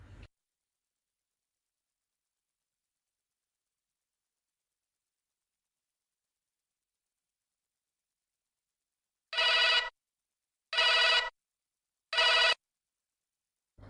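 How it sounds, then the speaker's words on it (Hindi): A telephone rings in an office, three short electronic bursts of ringing after a long silence. "आपका फोन मैम।"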